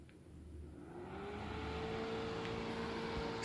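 A small fan built into an LED smart light bulb whirs steadily, a faint rising hum with a thin tonal whine that holds for a few seconds with no voices.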